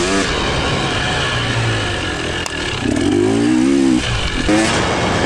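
A dirt bike engine revs loud and close as it climbs uphill on single track, with the pitch rising and falling through throttle blips and gear changes under steady mechanical clatter.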